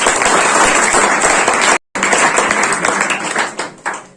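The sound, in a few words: audience applause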